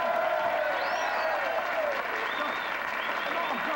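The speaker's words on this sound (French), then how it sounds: "Hey, une bonne main d'applaudissement pour mon gourou" Audience applause at a 1985 comedy stage show, a steady dense wash of clapping mixed with crowd cheering and shouting voices that fills the whole stretch at even loudness.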